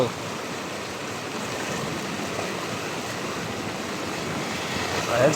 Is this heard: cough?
no